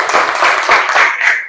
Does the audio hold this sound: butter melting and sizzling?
no